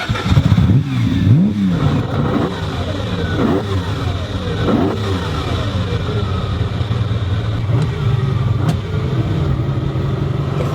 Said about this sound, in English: you have the bellow of God when you get on this thing